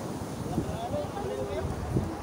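Strong sea waves wash in on a beach with a continuous rushing roar and wind buffeting the microphone, while people talk and a voice sings briefly over the surf.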